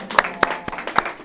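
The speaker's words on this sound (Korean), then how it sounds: "우리 환영의 박수 한번 하겠습니다" Church congregation giving brief welcoming applause, a handful of distinct, fairly close handclaps in an uneven rhythm lasting about a second.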